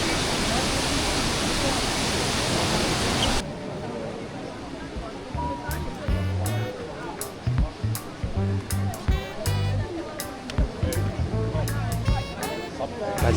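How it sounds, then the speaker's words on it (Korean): Broad, steady roar of a waterfall at Plitvice Lakes National Park, loud and continuous at first, then dropping to a softer rush beneath people chatting and footsteps nearby. "이렇게 좀 화려한 폭포가 나오면"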